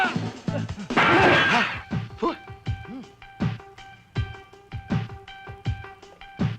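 A second window shatters in a Filipino film scene: a loud crash with a dense burst of breaking glass, followed by a series of sharp, evenly spaced impacts.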